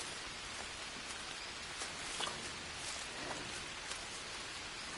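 Steady, dense rain falls in the jungle survival game Green Hell, a continuous hiss of drops on foliage and ground with faint scattered patters and no voices.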